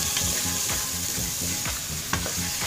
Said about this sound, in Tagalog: Tapos isunod natin ang spring onion natin. At haluin din po natin.